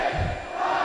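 Basketball crowd in a high school men's game, Perry versus Chaparral, roaring in a steady dense wash of voices as fans try to fake out a free throw shooter; loud and continuous for under a second.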